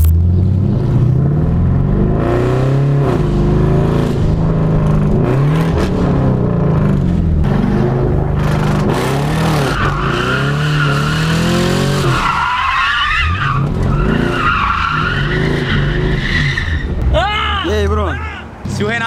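A Chevrolet Camaro drifting hard, its engine roaring and revving in rising and falling sweeps while the tires skid and squeal loudly and continuously, close up and dominating the scene.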